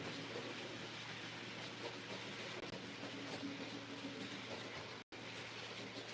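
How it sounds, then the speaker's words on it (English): Model trains run steadily around a home layout, a continuous rolling rumble with faint clickety-clack from the wheels, even and moderately quiet throughout, broken by one very brief dropout. "I'm just going to sit and run some trains"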